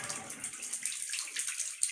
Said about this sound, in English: the water is coming out into the tub.